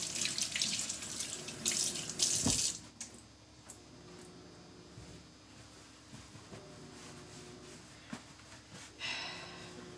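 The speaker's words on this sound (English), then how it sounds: "I'm still scrubbing to get that extra charcoal off my hands." Tap water runs over hands being scrubbed to get charcoal off, a loud close rush for the first couple of seconds, then quieter rubbing and splashing with a few drips and a brief return of running water near the end.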